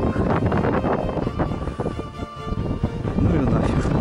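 Strong wind buffets the microphone in heavy, continuous gusts outside an abandoned manor estate, with a voice speaking Russian underneath the roaring noise.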